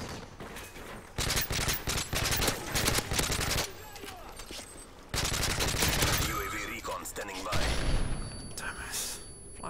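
Gunfire from players shooting in Call of Duty Modern Warfare 3, loud rapid bursts that start and stop in several long stretches, with someone talking over the shooting.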